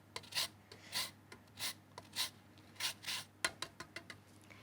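Lemon zest being grated on a grater, a series of short, rhythmic scraping strokes, close and fairly quiet, each rasp distinct with brief pauses between.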